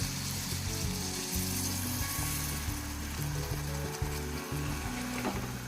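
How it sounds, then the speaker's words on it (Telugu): A brinjal and dry prawn curry sizzles and bubbles in a pan after a little water goes in, a close, busy crackle with stirring knocks underneath, fairly quiet and with no talk. "ఇప్పుడు ఏంటంటే కొద్దిగా వాటర్ అయితే పోస్తున్నాం"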